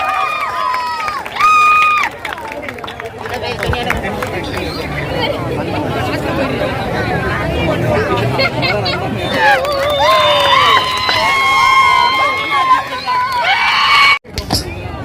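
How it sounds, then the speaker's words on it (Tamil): Crowd noise at a marathon prize ceremony: loud, sustained hubbub of chatter, shouts and cheering from a close, lively crowd, with higher excited voices rising partway through and a brief dropout near the end. "பலமான கரகோஷங்களை வைக்கலாம்."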